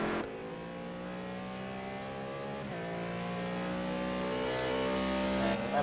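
McLaren GT3 race car engine in Project Cars 2 at Azure Circuit, a steady rising engine drone with a continuous harmonic whine building gradually as the car accelerates.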